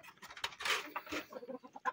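Chickens in a backyard coop with Indian roosters give soft, faint clucks and scattered rustling, several short calls at a distance in a quiet setting.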